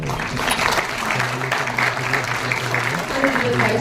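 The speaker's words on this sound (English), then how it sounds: "a huge round of applause for him" Applause fills the hall at a university inauguration ceremony as the vice chancellor is welcomed to the stage, a steady crowd clapping with voices and a low hum underneath.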